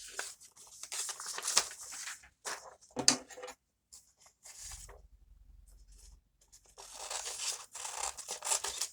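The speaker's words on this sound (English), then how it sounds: "Make sure we're holding our scissors correctly." Paper is cut with scissors for a winter clothing pattern: close, faint snips and crisp rustles arrive in irregular bursts, with quiet pauses and a low handling thump between them.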